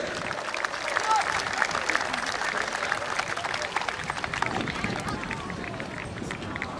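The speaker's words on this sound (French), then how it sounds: "Applaudissements, s'il vous plaît." Crowd applause at a youth BMX race after a rider falls, a dense ongoing patter of clapping spread wide through the outdoor venue with loose voices mixed in.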